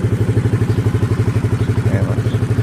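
A Rouser NS125fi motorcycle engine idles with a steady, throbbing pulse and rattling vibration, close and loud throughout with no talking.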